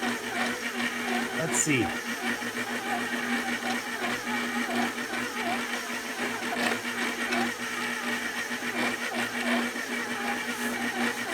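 An old kitchen stand mixer, around 17 years old and getting noisy, runs steadily while kneading tsoureki dough, a continuous whirring motor drone close by, with a person speaking briefly over it.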